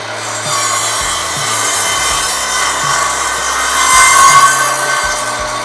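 An Evolution cordless miter saw cuts through wood in a steady, loud, continuous rasping drone that holds for several seconds and swells slightly near the end, with no voices.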